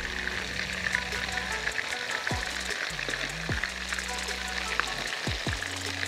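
Kofta fries in a pan with a steady, close sizzle and crackle, while occasional soft clatter and faint voices rise in the background.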